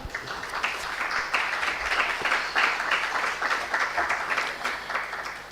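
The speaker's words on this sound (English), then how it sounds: "Another round of applause for all contributors so far." An audience at a UN Women Nigeria roundtable with media executives gives a sustained round of applause, dense clapping that holds steady before tapering off at the end, with no talking over it.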